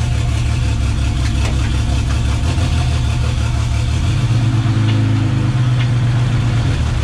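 A V12 bi-turbo engine in a Citroën Traction idles loudly nearby with a steady low chug, its pitch shifting slightly partway through as it settles into a smoother hum.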